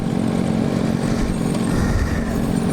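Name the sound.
Suzuki GSX-R (Gixxer) motorcycle engine passing by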